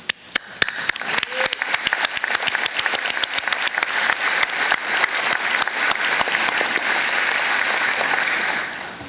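Audience at a graduation ceremony claps in a burst that swells into sustained loud applause, dense and steady for several seconds before fading slightly at the end.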